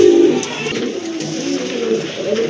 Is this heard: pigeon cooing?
yes